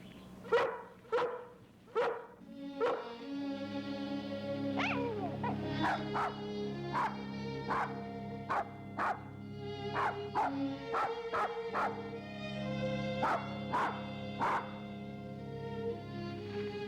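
A dog barks repeatedly in short, sharp bursts with irregular spacing, mixed with yips and whimpers, fairly close and without any talking.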